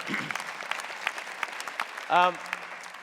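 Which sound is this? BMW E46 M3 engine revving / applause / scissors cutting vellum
applause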